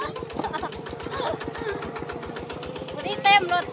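A farm tractor engine runs steadily with a rapid, even chugging pulse while people ride it into the forest, and voices talk over it throughout.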